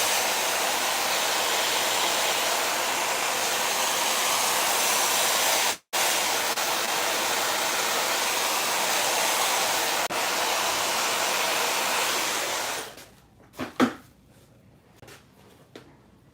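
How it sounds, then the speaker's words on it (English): A hair dryer blows a loud, steady stream of air for about thirteen seconds, with one brief cutout, then switches off, leaving a few soft handling sounds. "Take your blow dryer."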